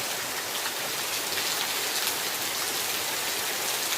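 Heavy rain pours in a steady, dense hiss, loud and unbroken throughout with no voices.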